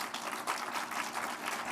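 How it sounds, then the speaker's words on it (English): Faint applause from a conference audience at the UNCCD COP16 event, a soft, steady wash of clapping heard from a distance and briefly. "Please give them a big round of applause."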